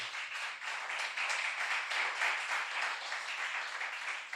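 A church congregation claps in a dense, even burst of applause for a few seconds, moderately loud and without speech.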